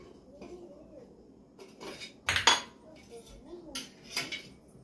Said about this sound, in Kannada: ಇದಕ್ಕೆ ಎಣ್ಣೆ ಹಾಕೊಂಡು ಮಿಕ್ಸ್ ಮಾಡ್ಕೊಂಡ್ವಿ